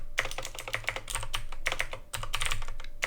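Rapid typing on a computer keyboard, a steady run of close, crisp key clicks with a brief pause near the middle, no voices.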